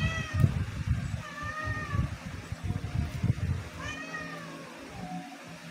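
Two close, insistent cat meows, each wavering in pitch, separated by a pause, with low rumbling and knocking noises underneath.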